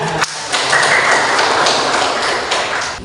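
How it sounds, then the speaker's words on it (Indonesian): A class claps together after a classroom discussion, a loud, close, continuous patter of hands with a few sharper taps standing out, and no talking. "tepuk tangan untuk diskusi kita"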